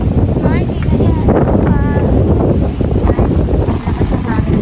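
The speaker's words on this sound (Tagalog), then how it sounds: "Lakas ng hangin, grabe." Strong wind buffets the microphone in a constant loud roar, with a voice speaking briefly over it.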